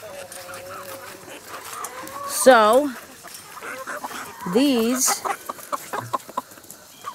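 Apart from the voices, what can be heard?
chickens and rooster clucking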